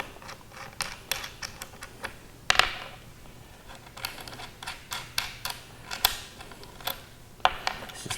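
Kayak foot braces being taken apart: scattered close clicks, ticks and metallic knocks as nuts are loosened and parts handled, irregular and fairly quiet.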